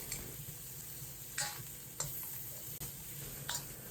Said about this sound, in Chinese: 放入蒜片、姜丝、葱花，将小料煸炒出香味